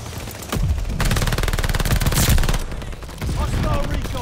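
A PPSh submachine gun in Call of Duty Vanguard team deathmatch on a Berlin map, loud rapid full-auto bursts with dense evenly spaced shots, two longer strings separated by a brief pause, with game effects around them.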